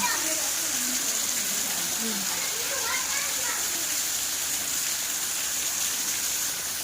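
Heavy rain pours down steadily in a late-afternoon thunderstorm, a dense continuous hiss that stays loud and even throughout, with no voices heard.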